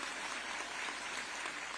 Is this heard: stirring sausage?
no